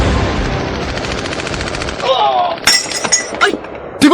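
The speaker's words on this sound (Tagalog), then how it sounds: "May nagpaputok dito sa safe house natin." Gunfire strikes a safe house in a radio drama: a loud, rapid burst of shots for about two seconds, followed by sharp cracks and breaking, shattering impacts.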